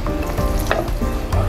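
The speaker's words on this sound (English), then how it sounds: "kapag matutunaw na yung butter, that's the time we will add the quick melt" Butter melts in a hot pan, giving a close, continuous crackling sizzle with a few sharper pops and the scrape of stirring.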